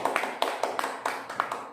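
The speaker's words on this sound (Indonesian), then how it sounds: "Tepuk tangan dulu dong, Ibu" A small audience at a gathering for pregnant mothers claps in scattered, uneven hand claps, nearby and moderately loud, with no voices over it.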